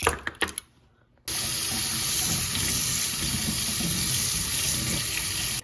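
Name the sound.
cold tap water running over a shrimp net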